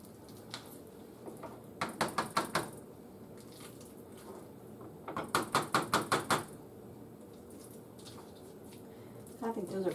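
Pressure-canned pinto beans being mashed in a pot: two quick bursts of rhythmic thudding, squishy strokes, about five to seven each, close and fairly faint, with a few softer isolated taps around them.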